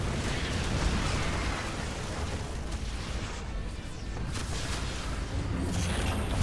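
A Terran factory in StarCraft is destroyed amid battle, with a sustained roar of explosions and bursting debris, loud and dense, running continuously without a clear break.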